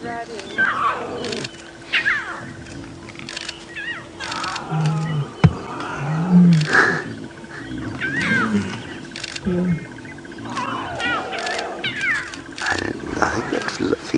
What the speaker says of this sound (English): that female you can hear making the noise, I think, is calling the little ones towards us